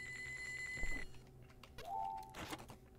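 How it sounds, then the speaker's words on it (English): A phone rings in a fishing game: a bright electronic tone with steady harmonics holds for about a second, then a shorter, lower ringing tone returns a moment later over a low ambient game backdrop. "That sounds like my phone."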